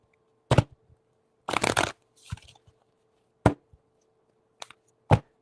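Tarot cards being shuffled by hand in several separate bursts: short crisp riffles and taps, a longer flurry near the start, then quieter isolated snaps, close and fairly loud with no talking.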